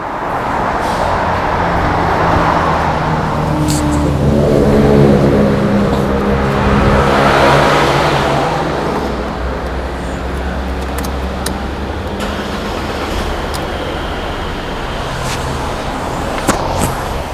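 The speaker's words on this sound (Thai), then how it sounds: "เดี๋ยวเราลองไปฟังเสียงสตาร์ทเครื่องกันดูนะครับว่า เสียงจะเป็นยังไงบ้าง" A 2012 Mercedes-Benz C200 CGI 1.8 engine runs loudly, its pitch rising as it revs before settling back into a steady, even idle.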